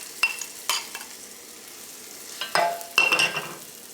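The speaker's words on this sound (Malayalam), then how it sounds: "ഇതിലേക്ക് നമ്മൾ വറുത്ത് വെച്ചേക്കുന്ന ഇഞ്ചി ചേർക്കാം." Fried ginger goes into a pan of ginger pickle and is stirred: a few sharp scraping strokes of a spoon against the pan over a faint sizzle, with quiet gaps between the bursts.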